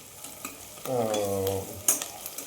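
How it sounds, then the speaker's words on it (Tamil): Sliced onions for a jackfruit biryani frying and being stirred in a pan, a soft sizzle with a few scraping stirs and clinks of the spoon against the pan, close and quiet, no talking. "வெங்காயம் நல்லா பொன்னிறம் ஆகிற வரைக்கும் நல்லா வதக்கணும்."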